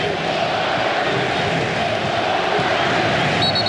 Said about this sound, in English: Fans again cheering glory, glory.